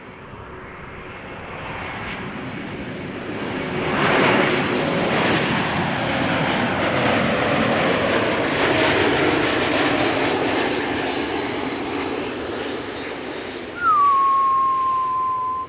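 A Chinese Boeing 777 arrives at Amsterdam Schiphol from Guangzhou, a jet rumble that swells and holds loud as it passes, then eases, with a thin engine whine sliding down near the end.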